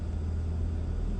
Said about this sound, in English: taking this RS for a spin